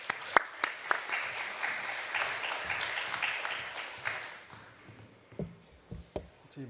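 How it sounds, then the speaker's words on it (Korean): Audience applause welcoming a pastor to the stage at a church Bible-study gathering, a moderate wash of clapping with a few sharper nearby claps, fading toward the end as scattered handling sounds and brief noises take over. "우리 김 목사님 나오실 때를 박수로 환영하겠습니다."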